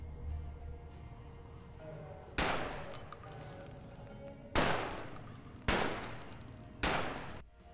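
A modded gun firing in Fallout: New Vegas, four loud separate shots spaced about a second apart, each a sharp crack with a ringing metallic tail, over a quiet background.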